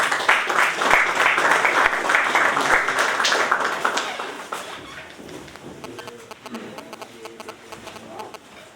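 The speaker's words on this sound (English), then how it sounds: "let's give them a big round of applause" A business-plan competition audience gives a big round of applause for an event representative; dense clapping is loud for about five seconds, then fades to scattered claps as a voice begins speaking.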